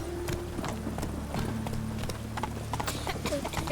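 Horse hooves clip-clop steadily in The Witcher 3, a rhythmic, moderately close trotting pattern over a low in-game ambience, with no talk over it.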